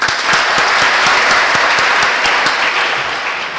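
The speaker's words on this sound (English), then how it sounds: "a huge round of applause for each one of you" A college orientation audience breaks into a steady, dense round of applause, loud and sustained throughout with a slight tapering at the end.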